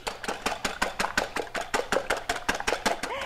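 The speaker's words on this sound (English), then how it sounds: "4 eggs, just pop them into a bowl and then take a whisk and beat them up." A whisk rattles against a bowl, beating four eggs in quick, steady strokes, a run of sharp regular clicks close by with no talking.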